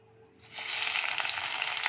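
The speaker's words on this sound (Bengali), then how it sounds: "এই যে কড়াইতে আমি তেল দিয়ে দিয়েছি, সর্ষের তেল। এবার দিয়ে দেবো পেঁয়াজ।" Chopped onions hit hot mustard oil in a wok for a potato curry, setting off an abrupt, loud sizzle halfway through that holds steady and close, with light crackling throughout.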